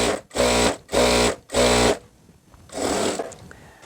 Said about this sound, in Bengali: দেখেন আমি দুইটা করে সেলাই দিয়ে দিচ্ছি।